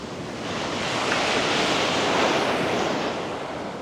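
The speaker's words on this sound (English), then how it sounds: "We're gonna enjoy this walk on the beach." Ocean surf washes steadily onto a beach in Kuantan, Malaysia, a continuous broad roar that swells through the middle and eases slightly at the end, with some wind noise on the microphone and no talking.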